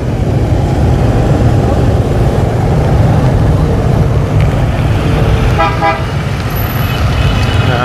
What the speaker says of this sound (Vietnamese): Cái chỗ này thường xuyên kẹt xe lắm nè.